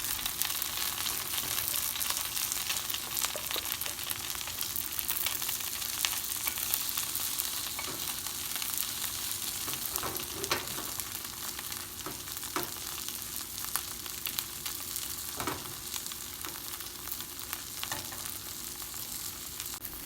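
A Vietnamese banh xeo crepe crisping in a hot pan gives a dense, continuous sizzle with scattered sharp crackles and pops throughout, close and unbroken, with no talking.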